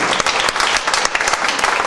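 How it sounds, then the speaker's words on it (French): Audience applause at a French community event, a dense, steady wash of many hands clapping together, loud and close, with no talk over it for the whole stretch. "On peut l'applaudir."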